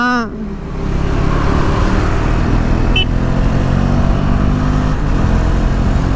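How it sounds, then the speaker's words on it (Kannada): KTM Duke 390 motorcycle heading out on a morning ride, its engine rumbling steadily and loudly up close after a brief rising note at the start, with a voice briefly audible over it. "ಸೊ ಇವಾಗ ಒಂದು ಜಾಲಿ ಮಾರ್ನಿಂಗ್ ರೈಡ್ ಹೊರಟಿದ್ದೀವಿ"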